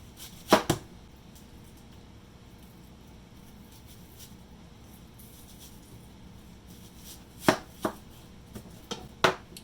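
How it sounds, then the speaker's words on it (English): A knife cuts through large sweet onions on a board, a few crisp isolated chops early, then a quick cluster of sharp cuts near the end, against quiet background. "Slice out the bottoms. And these are large sweet onions"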